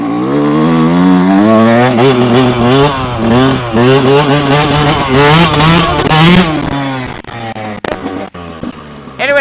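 A motorcycle engine revs hard and loud while riding fast on one wheel, its rising and falling pitch sweeping up and down in repeated surges, then cutting back with brief clattering near the end.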